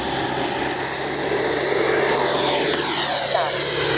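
FMS Avanti S 90mm electric ducted-fan RC jet airplane flying during a stall test, a loud steady high-pitched whine that slowly shifts in pitch as it passes close by.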